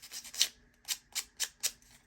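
Edges of a UV resin badge being sanded by hand: a soft, brief scrape followed by four or five short rhythmic rubbing strokes, close and quiet with no voices.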